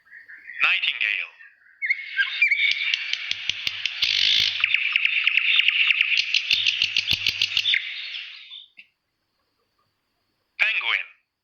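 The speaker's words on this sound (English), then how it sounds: "nightingale," A nightingale sings a rich, varied song of rapid trills and repeated notes, with one sustained phrase, plus brief chirped calls at the start and end, heard close and alone.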